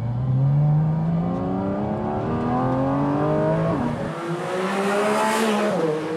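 A 2023 Porsche Cayman GT4 RS engine revs hard and loud while cornering, pitch climbing, dipping briefly with a gear change, then rising again.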